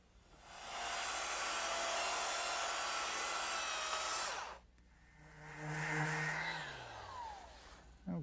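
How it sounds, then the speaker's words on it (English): A power sander smooths a raised wooden joint in a woodworking shop, running as a loud, steady broadband whir for several seconds, stopping, then starting again with a shifting, descending tone as it winds down. "it's sticking up a little bit here, so I'll just dress that up with my sander."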